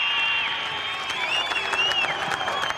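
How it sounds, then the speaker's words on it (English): At a Supercars race podium in Queensland, after the winner of the Big Pond 400 is announced, a crowd applauds and cheers at a distance under a steady tonal hum and bursts of clapping. "Give a nice Queensland round of applause"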